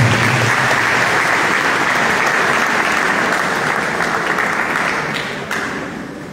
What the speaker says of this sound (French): s'il vous plaît, applaudissez pour vous.